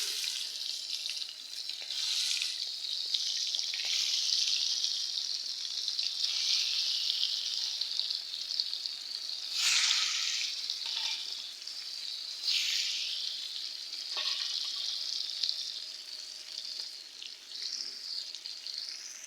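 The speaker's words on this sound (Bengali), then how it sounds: "আর তেল দিয়ে দিলাম মাছ ভাজার জন্য" Tilapia fish frying in hot oil, a steady bright sizzle that runs on throughout with occasional louder spits and crackles as the pieces cook, close and without any talk.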